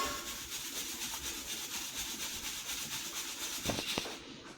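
Roasted peanuts rubbed against a metal strainer to loosen their skins, a steady dry scraping and rustling texture throughout, with a couple of sharper knocks near the end.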